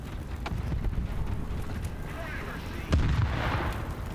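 A tank cannon fires once in the War Thunder video game on a snowy map, a sudden heavy boom with a rumbling tail partway through, set against a constant low engine-like drone.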